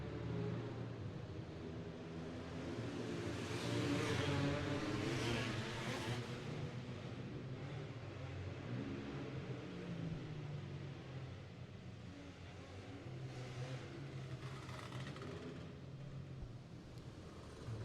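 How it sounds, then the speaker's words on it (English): Open cage karts running hot laps on a dirt speedway, a continuous distant engine drone rising and falling as the pack circles, with wind buffeting the microphone and no talking. "Got the open cage carts rolling onto the speedway for their hot laps."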